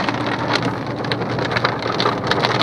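Heavy unseasonal rain falls in Panvel near the Mumbai Pune Expressway, a steady loud downpour hissing and pattering on surfaces throughout with no one speaking.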